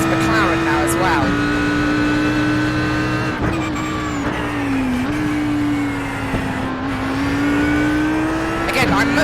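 A GT3 race car engine in iRacing at Watkins Glen drones loud and steady, its pitch shifting through gear changes and braking, close and continuous throughout.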